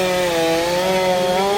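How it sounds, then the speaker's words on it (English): A chainsaw runs steadily at a sustained high whine during a day of sharpening and blade maintenance, loud and close, with no pauses and no voices. "because Dan was being rude with a chainsaw right in the middle of my video"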